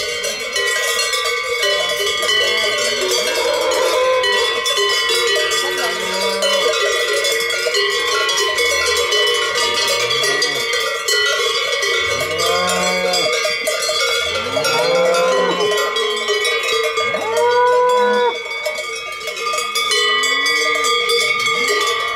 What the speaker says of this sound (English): It's a lot of cows here, coming from above, from there on top.